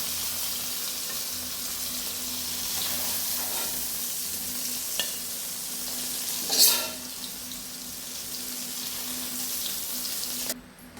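Paneer pieces frying lightly in a pan with about a spoonful of oil, a soft continuous sizzle at low level, with one brief louder scrape or clatter partway through.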